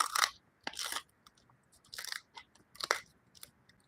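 Loud, close crunches as a dog bites down on a treat, four or five sharp crackling chomps spaced about a second apart, with near silence between them.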